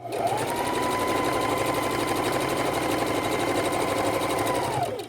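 A sewing machine runs a seam along the outer edge of an adult bib, a steady, close mechanical whir starting and stopping cleanly with no talk over it.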